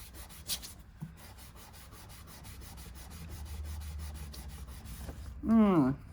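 A piece being rubbed down by hand, a soft steady scraping that swells and fades over several seconds, ending with a brief louder squeaky rub.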